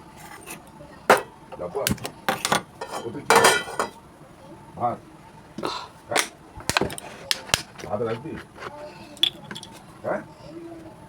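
An egg cracked for frying in a home kitchen while preparing a rice and fried-egg tiffin, sharp taps and clinks of a shell against a dish amid scattered kitchen clatter, close and fairly loud.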